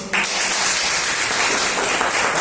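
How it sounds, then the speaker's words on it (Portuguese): A church congregation breaks into sustained, dense applause during a worship service, a steady loud wash of many hands clapping together without pause. "Dá uma salva de palmas para Jesus."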